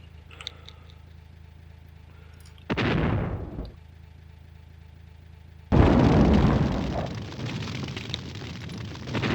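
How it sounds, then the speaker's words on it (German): Artillery shells firing and exploding in the World War II strategy game Sudden Strike Forever: a short boom at about three seconds, then a louder, sustained rumbling blast that carries on to the end over a quiet battlefield ambience. "Artillery ready. Ja, die Artillerie. Endlich ready."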